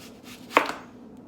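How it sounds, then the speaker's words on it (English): A single sharp knife cut into a big onion on a board as it is sliced into thick rings, one close crisp chop in an otherwise quiet moment. "You want a big onion and then you want to cut it"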